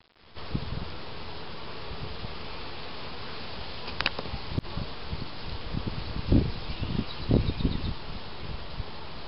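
Honey bees swarm around an open replacement hive in a backyard apiary, a dense, steady buzz filling the air with a few soft knocks and rustles close by.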